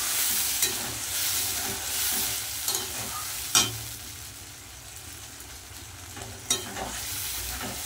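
Ground paste of ginger, cumin, green chilli and tomato frying with browned potatoes for ghugni, a continuous sizzle broken by scraping stirs and a few clanks of the spoon against the pan.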